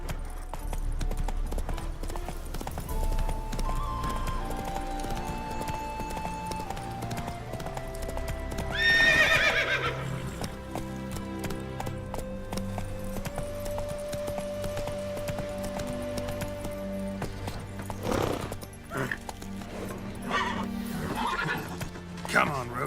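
Horse galloping in The Witcher III: Wild Hunt, with rhythmic hoofbeat clip-clop throughout and a loud neigh midway, set against game music and someone talking.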